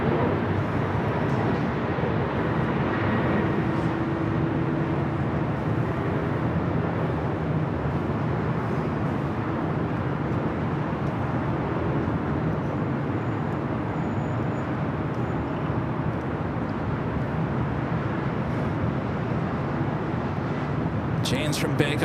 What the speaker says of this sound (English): KLM flight 602, the flight back to Amsterdam, 787 net 10 Dreamliner, heading up for a north side takeoff.